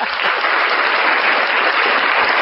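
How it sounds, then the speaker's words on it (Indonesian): Audience applause in a room, loud, dense, even clapping that holds steady from start to finish with no voices over it. "Tepuk tangan ke Emil."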